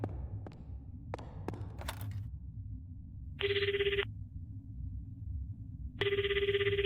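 A telephone rings in a horror video game: two loud, bright electronic ring bursts, each under a second long, separated by quiet, after a few sharp knocks and clicks at the start.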